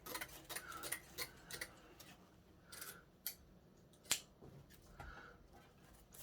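Scissors snip through stiff sinamay millinery fabric in a series of short, crisp cuts, some in quick pairs, quiet and close with pauses between.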